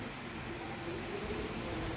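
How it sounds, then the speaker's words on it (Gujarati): Steady rain falls in a village, a continuous dense hiss of drops at even strength with no pauses or voices throughout. "વરસાદ જો વધી ગયો"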